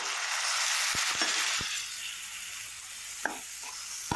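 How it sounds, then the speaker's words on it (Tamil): Chopped tomatoes dropped into a pan of fried ginger-garlic paste while cooking egg curry, setting off a steady, close sizzle and frying hiss, with a few sharp utensil taps and stirring scrapes. "இப்போ நம்ம கட் பண்ணி எடுத்து வச்சிருக்க தக்காளி இதில் சேர்த்துடலாம்"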